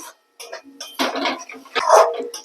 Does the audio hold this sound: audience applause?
no